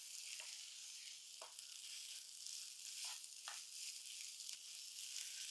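Onion and potato masala with turmeric and garam masala sizzles steadily in a pan, a continuous bright frying hiss broken by several soft scraping strokes as it is stirred, with no voices.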